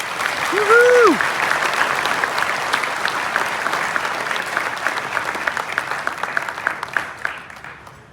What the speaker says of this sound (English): Please give a big, warm round of applause